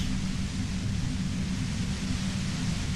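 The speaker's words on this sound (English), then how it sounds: "The violent white noise becomes even more overwhelming." Violent, overwhelming white noise from the Disco Elysium video game, a dense steady hiss with a heavy low rumble underneath, loud and unbroken throughout, with no voices.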